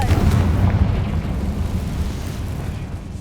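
A Confringo spell explosion in Hogwarts Legacy, a loud heavy blast with a deep rumbling low end that carries on steadily and slowly decays over a few seconds without voices.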